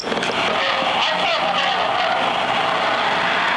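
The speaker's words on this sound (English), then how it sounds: "That's the noise of the dryer." A clothes dryer runs with a continuous whooshing hum, steady and fairly loud throughout, with no clear breaks.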